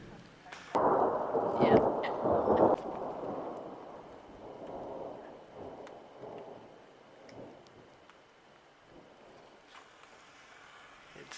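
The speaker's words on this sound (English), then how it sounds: "Got a storm rolling in." Thunder from a storm rolling in over an August campsite rumbles loudly for a couple of seconds near the start, then fades into softer, distant rolling rumbles and a quiet outdoor hush.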